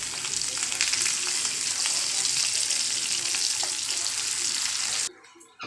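Onion and mashed potato frying in a pan for aloo paratha filling, a steady loud sizzle with faint scraping that continues for about five seconds, then cuts off abruptly into near quiet.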